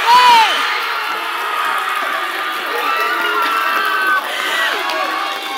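A lively crowd cheers and shouts with whoops and whistles at a sports tournament final, a loud, steady roar of voices that holds throughout.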